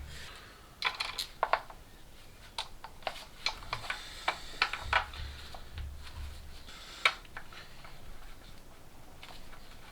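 Sharp clicks from a torque wrench tightening a bolt to 32 Newton meters on a BMW 330i engine, scattered irregular ticks and taps with a few brighter clicks, close and fairly quiet over low background hum.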